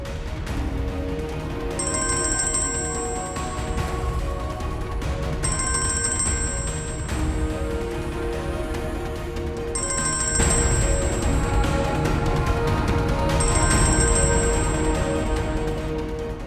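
A telephone rings in a drama scene, four repeated electronic trills spaced about four seconds apart over a steady background bed.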